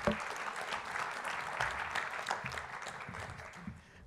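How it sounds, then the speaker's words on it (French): Audience applause at a Toulouse forum on the cost of climate change, a steady wash of many hands clapping at moderate distance, sustained for several seconds before easing slightly at the end. "on peut les applaudir"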